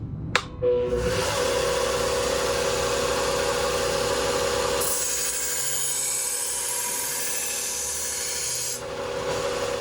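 A knife is sharpened on a 1x30 belt grinder, whose steady motor whir and belt hiss run throughout, with a brighter grinding rasp as the blade touches the belt, close and continuous.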